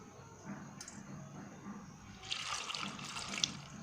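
Water pouring into a pressure cooker holding pumpkin and tomato, a close, steady splashing stream that grows brighter and fuller toward the end.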